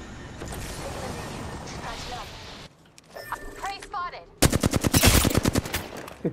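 Rapid automatic gunfire in a first-person shooter video game, bursts of sharp repeated shots under players' voices calling out, ending in a loud sustained volley.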